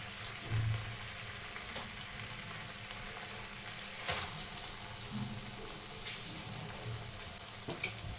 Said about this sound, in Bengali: এই মশলায় আমি পোলার চালটা কিছুক্ষণ ভেজে নেব।